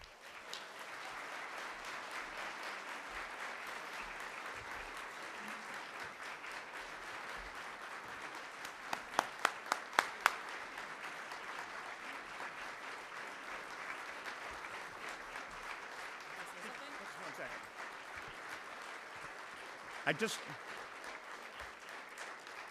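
An audience at a community breakfast applauds an award recipient, sustained even clapping carrying on at length with a few sharper nearby claps and a voice briefly cutting in.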